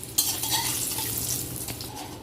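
Eggplant pieces fry in a pan with a steady, fairly quiet sizzle, broken by light stirring and a few soft clinks of a utensil.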